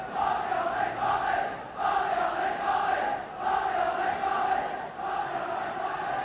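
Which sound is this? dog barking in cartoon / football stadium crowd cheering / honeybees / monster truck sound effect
football stadium crowd cheering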